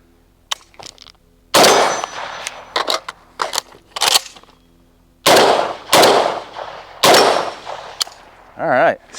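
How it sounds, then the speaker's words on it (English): Rifle shots ring off an 8-inch steel gong set downrange, sharp cracks each followed by a bright metallic clang that decays, spaced irregularly and loud, with faint speech between. "The second round will go to my 8-inch gong down here"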